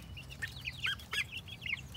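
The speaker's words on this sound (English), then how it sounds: "Our baby duckling's first little quacks." A baby duckling gives its first little quacks, a quick run of thin, high, chirpy peeps close by over a low background hum.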